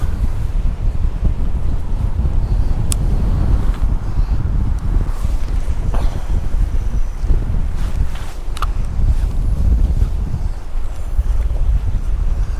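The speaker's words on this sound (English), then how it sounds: "just the wind that's an hindrance" Strong wind buffets the microphone on the River Humber shore on the East Coast during sea fishing, a continuous loud low roar with gusts and no speech.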